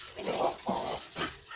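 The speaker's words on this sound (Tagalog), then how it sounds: "Yung aso ko, hinahabol at ang pusa sa labas" A dog chasing a cat outside barks and yelps in three quick bursts, fairly close and loud, with no talking.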